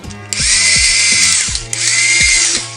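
A power screwdriver unscrews a fastener from a model Ferrari in two long loud whirring runs, each slowing slightly at the end, with a short pause between them.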